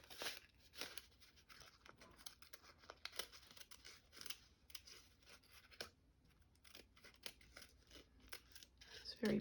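Scissors snip around a colored card, a run of crisp close cutting clicks and rustles in uneven bursts with short pauses, faint and intimate, while a voice talks quietly at times.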